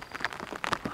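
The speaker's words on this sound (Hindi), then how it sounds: "तो गाइस, आज सुबह सुबह बारिश स्टार्ट हो गई" Morning rain falls in a forest, giving a close, steady patter of drops on surfaces with small irregular taps.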